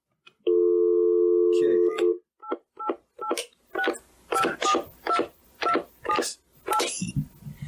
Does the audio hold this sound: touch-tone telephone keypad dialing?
yes